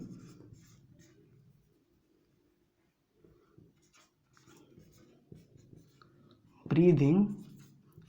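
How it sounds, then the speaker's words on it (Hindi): Chalk or marker writing on a board during a biology lecture on respiration, soft scratchy strokes at the start and in short bursts, with a brief burst of speech near the end. "तो हम यहीं पे लिख सकते हैं"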